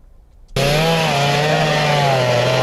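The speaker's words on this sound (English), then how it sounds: "Even men with one legs are operating chainsaws to try and get these trees" A chainsaw cuts through trees felled by Hurricane Melissa in the Caribbean. It roars in suddenly after a quiet moment and holds a loud, steady, close buzzing drone.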